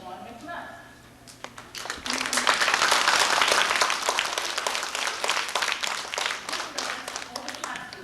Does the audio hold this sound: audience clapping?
yes